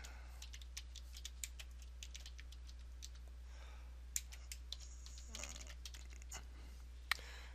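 A report name being typed on a computer keyboard: a quick, irregular run of light key clicks, quiet and close, over a low steady hum.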